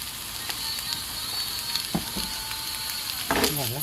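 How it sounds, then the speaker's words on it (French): Chopped onions frying in a little oil in a pan give a steady, close hiss and crackle that runs throughout, with a brief clatter near the end. "Je vais faire revenir les oignons, de bien les faire dorer, mais pas brûler bien sûr."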